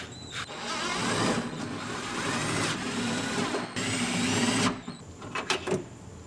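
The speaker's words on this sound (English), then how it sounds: "this is screwing things into place to make it stick" Power drill driving screws while refitting parts during a repair on a Scion tC, a continuous close whirring buzz lasting several seconds, then stopping and giving way to brief knocks.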